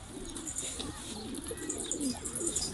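Pigeon cooing, a soft repeated low coo from a caught stray pigeon, heard over steady background noise with occasional faint bird chirps.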